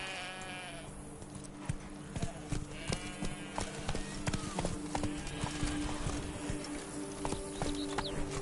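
The horse Roach gallops in a video game, with rapid rhythmic hoof clip-clops close by and a faint ambient game soundscape behind.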